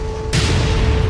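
A missile explodes in the MechWarrior 5 video game, a sudden loud broadband blast that swells and then rumbles on as a sustained roar over a steady tonal hum.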